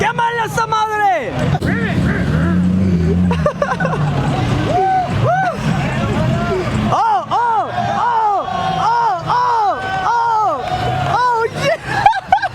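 Engine of a car doing a burnout at a Cars & Coffee meet in Houston, Texas, revving hard in repeated rising and falling surges over constant crowd chatter and shouting nearby.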